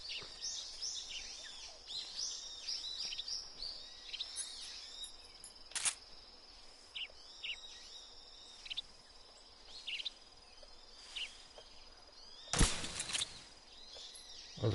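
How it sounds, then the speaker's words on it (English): Birds chirp and trill continuously in a Metal Gear Solid 3 jungle, layered with insect and cricket buzzing, with a couple of sharp, loud bursts cutting through the ambience. "Those are birds."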